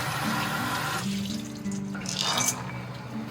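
Soaked soybeans are swished and rinsed in water in a kitchen: a steady close splash of running, sloshing water with brief pauses and gurgles, and no voices.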